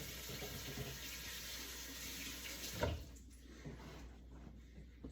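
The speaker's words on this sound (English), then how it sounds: "I'm gonna go wash my hands because I touched my hair." Tap water runs steadily into a sink as hands are washed in a home kitchen, a continuous broadband rush with a brief clatter near the three-second mark before the flow quiets slightly.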